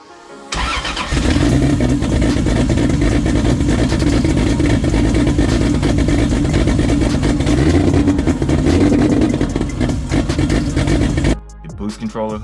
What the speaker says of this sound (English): We got the engine running again finally.